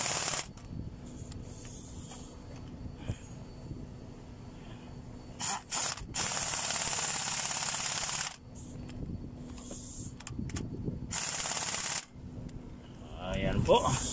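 Ratchet wrench tightening cylinder head bolts on a Mercedes-Benz Actros 2040 truck engine, with bursts of rapid clicking separated by pauses, close and fairly quiet, with someone talking in between.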